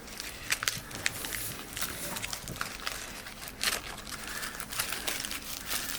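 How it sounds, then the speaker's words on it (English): Packaging is pulled off a new X-Chair X77 massage chair and crumpled. Plastic and paper crinkle and rustle in uneven bursts, close and fairly loud, with scattered crackles and tearing sounds. "taking all this little packaging off"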